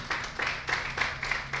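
Congregation clapping in rhythm during a church service as an offering to the Lord, a steady series of claps in bursts at a lively pace.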